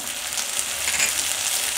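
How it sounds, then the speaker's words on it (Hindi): Cauliflower Manchurian fries in a pan with soy sauce and vinegar while being stirred, giving a steady, close, bright sizzling hiss throughout. "सब चीज़ को मिला लेंगे"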